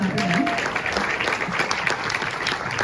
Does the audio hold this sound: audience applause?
yes